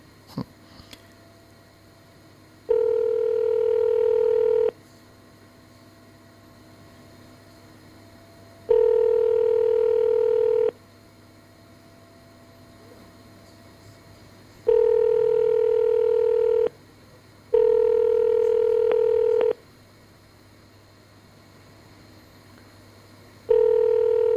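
Telephone call to a mental health helpline: repeated steady tone bursts about two seconds long with gaps between, like a ringback or dial signal, alone with no talk.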